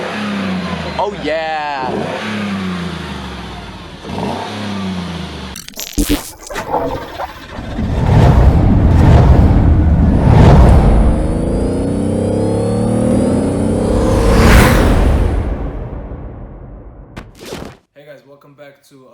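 A wrecked 2018 Jeep Wrangler Sport being rebuilt is started cold. A voice comes first, then the engine cranks, catches and roars loudly up close before settling into a steady high idle and cutting off.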